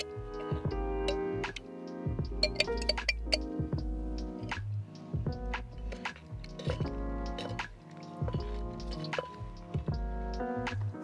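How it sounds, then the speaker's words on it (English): Fish sauce and tamarind puree spooned into a bowl for a Thai fruit salad, with soft wet drips, squishes and light spoon clinks in an irregular, close, quiet sequence, and no talking. "3 tablespoons of the fish sauce. Two tablespoons of tamarind puree."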